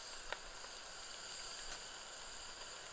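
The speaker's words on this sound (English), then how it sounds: "I think I can hear my pressure cooker here." A pressure cooker's steady, faint hiss of escaping steam runs throughout, with a couple of brief soft clicks near the start.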